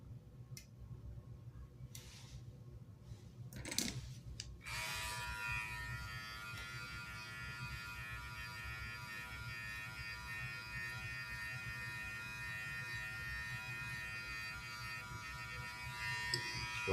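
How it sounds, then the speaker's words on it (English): An electric hair clipper, opened all the way, running for a self-cut high taper. After a few handling taps it starts and holds a steady close buzz to the end. "You're going to open your clipper all the way"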